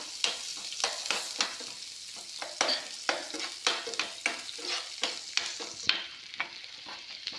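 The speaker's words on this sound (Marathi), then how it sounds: "आता आपल्याला हा कांदा लाल होईपर्यंत परतून घ्यायचा आहे" Chopped onion stirred and sautéed in a pan until browned for soybean parathas, a steady sizzle broken by repeated scraping strokes of a spatula, close and fairly loud, with no talking.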